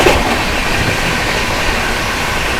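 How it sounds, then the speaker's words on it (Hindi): Steady rumble of a train running alongside as the Gaya–Delhi Amrit Bharat Express is overtaken, a dense continuous roar of wheels and carriages with no voices. "ओवरटेकिंग गया दिल्ली अमृत भारत।"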